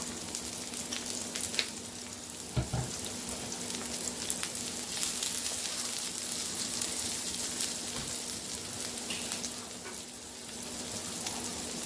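Oil sizzling steadily in a pan while spaghetti is being prepared, a continuous close crackle and hiss with a few sharper pops and faint stirring, no talk.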